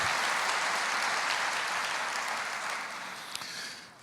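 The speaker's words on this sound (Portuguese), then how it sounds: "Aplauda o Senhor." A church congregation breaks into thick, loud applause that slowly thins and softens toward the end, with one sharper clap near the close.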